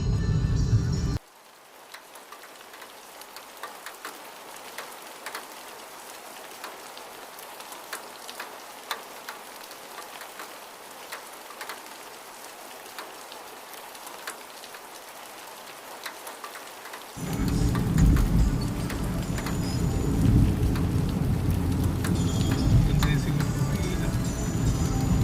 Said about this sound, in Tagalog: Maulan guys, ulan na linggo.